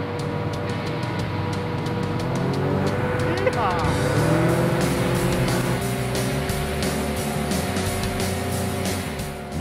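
An amphibious vehicle's engine drones steadily at close range, rising and shifting in pitch as it moves, with a rushing wash of noise and a voice briefly over it.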